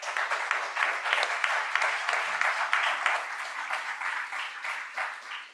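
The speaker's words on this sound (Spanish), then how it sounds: "Un aplauso, por favor." A seminar audience applauds steadily for several seconds at a faculty anniversary conference, with dense, even clapping from a moderately distant crowd and no talk over it.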